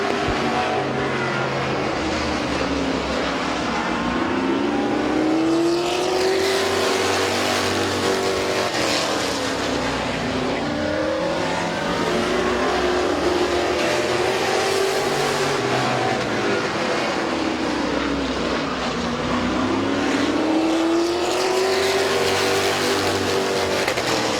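Race cars lapping at Midvale Speedway, a loud continuous engine roar that swells and fades in repeated waves as the pack circles the track, with no talk over it.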